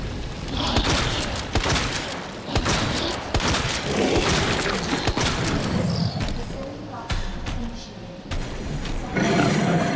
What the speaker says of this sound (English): Shotgun, please.